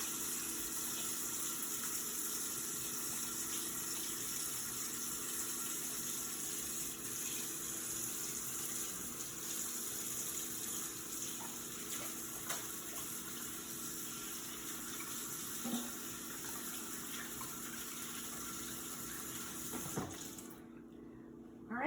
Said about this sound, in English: Let me wash my hands before I marinate this salmon.